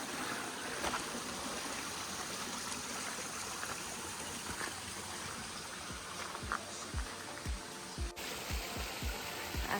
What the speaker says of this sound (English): So now I reached the river